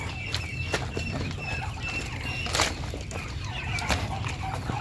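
Chickens cluck and squawk nearby in short scattered bursts as they are fed, over a low steady background hum, with occasional rustling and pecking sounds.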